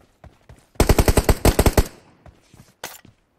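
Gunfire in the video game PUBG, a sharp burst of about a dozen rapid automatic shots close by, followed by a few isolated shots, with no talk over it.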